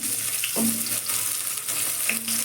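Bay leaf, panch phoron and potatoes sizzling in hot oil, a constant dense frying hiss broken by a couple of stirring scrapes, close and loud with no talk.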